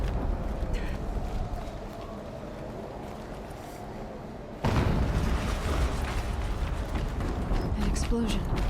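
A loud explosion in the video game Horizon Zero Dawn, a sudden broadband blast halfway through that lifts an already busy game soundscape of rumble and clatter and holds it at a higher level.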